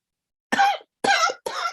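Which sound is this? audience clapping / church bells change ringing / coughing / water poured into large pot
coughing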